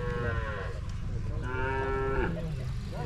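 Cattle moo at a stockyard, several long drawn-out calls close by, one after another over a low background hum.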